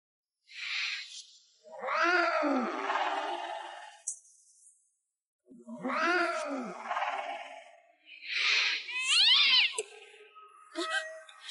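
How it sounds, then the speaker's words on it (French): Black cat meowing in town, several long drawn-out, wailing meows in separate bursts with short silences between, close and clear. "D'où vient ce chat noir en ville de Yuasheng?"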